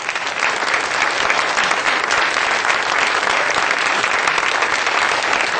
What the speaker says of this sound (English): Thank you all of you for your supportive applause